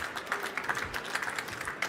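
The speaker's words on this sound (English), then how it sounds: "So can we get one round of applause for the jury here," Audience applause at a trade fair open-space stage event, a burst of steady clapping from a crowd lasting about two seconds, fairly close and without talk.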